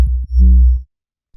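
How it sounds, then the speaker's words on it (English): A sine-wave sub bass layer from a neurofunk production built in Ableton, playing a deep, loud low tone that swells and holds for under a second with automated volume, then cuts to silence. "the last layer inside of here is the sub bass, which sounds like this"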